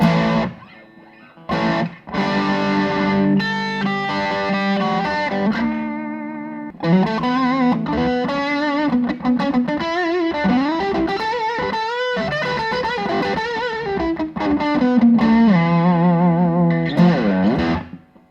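A 2016 Fender Mustang 90 Offset Series electric guitar with a gritty, distorted tone plays a melodic line with bends and held notes, steady and fairly loud, with a brief pause near the start.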